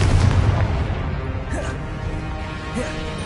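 Confringo blast spell from Hogwarts Legacy, a burst of booming, crackling explosions over a dense, continuous rumbling bed that stays loud throughout.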